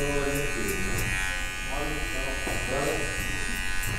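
Electric hair clippers fitted with a number one guard buzz steadily and close up through a high fade haircut, a continuous motor hum with faint talk over it.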